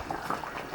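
Jamaican cow foot soup bubbling at a steady boil in a pot, a short burst of soft, even liquid gurgling and popping close by with no talk.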